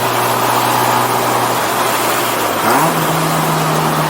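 A rotary-engine Mazda RX-7 drones steadily at close range, its tone dropping then rising again as the driver shifts and accelerates.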